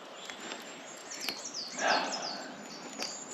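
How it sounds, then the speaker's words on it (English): Birds chirp and twitter faintly in an open woodland campsite, with a brief burst of calls in the middle over soft background hiss. "And listen to the birds."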